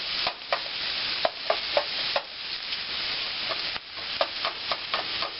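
Onions sweat in a pan with a little bacon and salt, a steady soft sizzle broken by periodic scraping stirs of a utensil against the pan.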